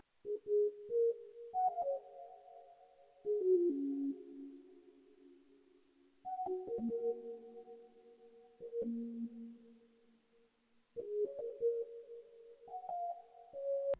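A smooth sine lead from Triton plays an experimental pluggnb melody, clean pure tones stepping and sliding between notes in short phrases separated by brief gaps, alone without drums.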